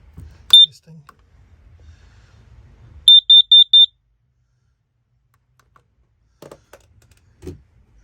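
Four sharp, evenly spaced high-pitched carbon monoxide alarm test beeps ring out close by aboard a sailboat, with a few soft knocks and clicks before and after.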